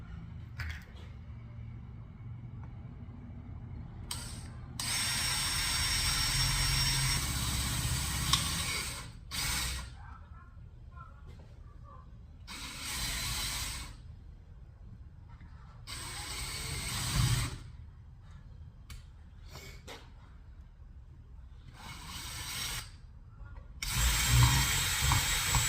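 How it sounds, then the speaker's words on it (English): A power drill works on a car fender part during fender rolling, in several bursts of whirring with pauses between, close and fairly loud, with no talking. "So we're just gonna drill this thing out,"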